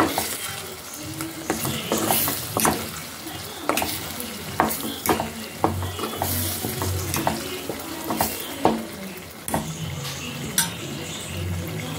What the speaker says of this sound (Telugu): రెండు నిమిషాలు ఆయిల్లో ఫ్రై చేసుకోవాలండి